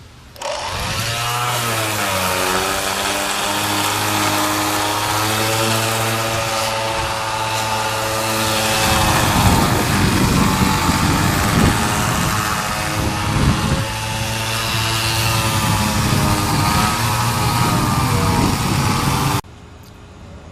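A power sander working a 2x4 farmhouse bench top, a loud continuous whirring drone whose pitch shifts as pressure changes, running nonstop for most of the time before cutting off abruptly near the end.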